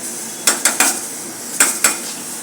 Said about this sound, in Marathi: ड्राय मसाले सर्व एकत्र करून घेऊया